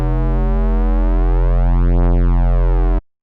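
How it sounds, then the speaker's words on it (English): A detuned wobble bass patch built in the Serum synth, with two unison voices beating against each other, drones loud and steady for about three seconds before stopping abruptly, its harmonics slowly sweeping and phasing. "we've got two unison voices, we have them beating against each other"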